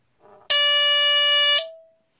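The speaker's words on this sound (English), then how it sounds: "Pretty loud, so the LED is constantly lit when the alarm is sounding." Entronic Vigilante II ES-7 smoke detector alarm sounding one loud, steady, piercing high-pitched tone for about a second, followed by a fading ringing tail, with faint background noise before it.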